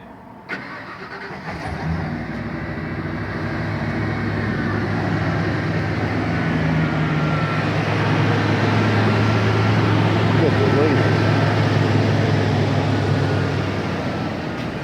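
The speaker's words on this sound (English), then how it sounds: "I'm so sick and tired of these loud trucks. Diesel ones." Loud diesel trucks rumbling past close by, a heavy low engine roar that builds and holds for the whole stretch, with a sharp knock near the start.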